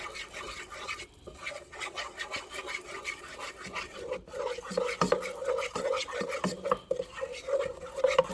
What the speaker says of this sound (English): continue to stir our mixture